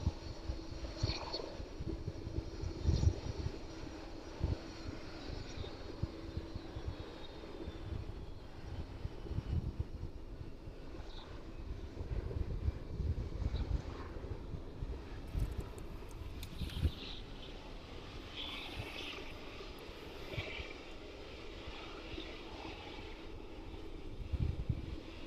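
An aircraft flies overhead near Kegworth by East Midlands Airport, a deep continuous engine roar with rumbling buffeting that swells and slowly fades over about twenty-five seconds, heard from the ground outdoors.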